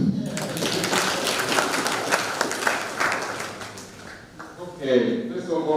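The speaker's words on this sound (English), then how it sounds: "I think we deserve a clap." A symposium audience applauds in a broad, continuous wash of clapping that fades toward the end, with talking rising over it in the last second.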